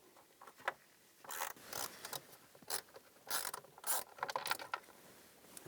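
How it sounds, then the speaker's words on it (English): A 1/4-inch drive ratchet and socket back out two panel screws near the firewall of a 2010-2017 Chevrolet Equinox during a heater core replacement, giving quiet, close bursts of ratcheting clicks with brief pauses and no voices. "We're gonna use a 1/4" drive or a 1/4" socket."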